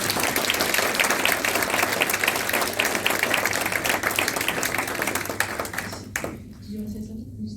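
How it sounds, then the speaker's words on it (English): A big round of applause from an event audience for young panel speakers, loud and sustained with crisp individual claps, ending abruptly and leaving near-silence. "let's give them a big round of applause"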